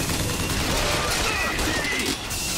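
Rapid gunfire in the video game Bioshock Infinite, a dense, loud burst of shots filling the short stretch, with a brief dip near the end.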